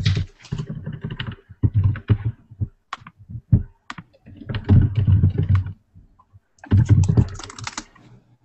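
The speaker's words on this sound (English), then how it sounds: "So sorry about the typing, but it's part of my computer." Typing on a computer keyboard, close and clattering, comes in uneven bursts of rapid key clicks separated by short pauses, with no voices over it.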